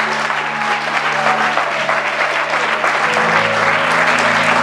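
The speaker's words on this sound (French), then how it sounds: "Acclame pour toi-même" Church congregation at a Cameroonian worship service applauding, a dense, steady wash of clapping that holds loud and even throughout, with a sustained organ or keyboard chord humming underneath.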